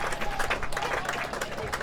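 A big crowd cheers and applauds as the New Plymouth Old Boys rugby team, celebrating its centenary, runs out through a guard of honour for a premier grade match against Coastal; steady, dense clapping and roaring throughout.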